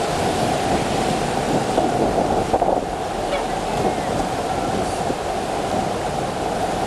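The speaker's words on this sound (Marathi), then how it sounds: "सोसाट्याचा वारा सुरू आहे, धोधो पाऊस कोसळतोय" Strong wind and heavy rain beside the Venna river at Mahabaleshwar, Satara, as a small bridge gives way: a loud, continuous broadband roar of gusting wind and downpour, steady throughout with buffeting on the microphone.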